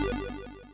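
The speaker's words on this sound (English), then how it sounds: "change that to loop mode. And then whenever I press my key, it's going to keep looping this envelope" An 8-bit style synth lead plays a held key while a looping envelope sweeps its wavetable position, giving a short, quickly stepping arpeggio-like chiptune pattern that starts strong and fades slightly, with no voices.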